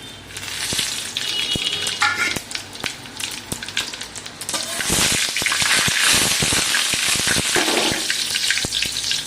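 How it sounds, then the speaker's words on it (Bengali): Cumin, five-spice, dried chilli and bay leaf hit hot oil and sizzle loudly and steadily, the crackle swelling halfway through, with a few sharp clinks over it. "এটা জিরে, এটা পাঁচফোড়ন, শুকনো লঙ্কা, তেজপাতা, এইগুলো সব আমি তেল গরম হয়ে গেছে দিয়ে দিচ্ছি।"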